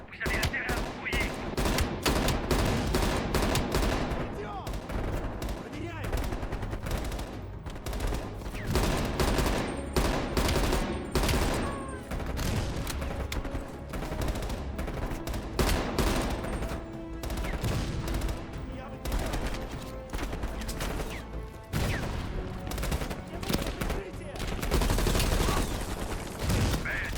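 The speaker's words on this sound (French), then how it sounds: "une mitrailleuse lourde sur la crête" Sustained heavy machine-gun fire from a ridge in Call of Duty: Black Ops Cold War rattles in rapid, dense bursts throughout, loud and close, with scattered shots and explosions mixed in and brief voices underneath.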